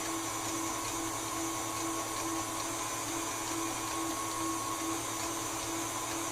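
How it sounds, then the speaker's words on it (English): An electric stand mixer whips meringue for baked Alaska at medium speed, a steady, loud, close motor whir with a constant hum that never changes pitch or level. "You can see into the mixer there, it's starting to go quite thick now"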